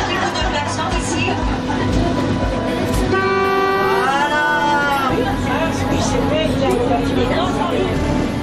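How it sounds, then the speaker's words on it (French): A vehicle horn sounds one sustained honk and then a second shorter, wavering one, over steady background chatter and outdoor noise. "Un petit coup de klaxon ici."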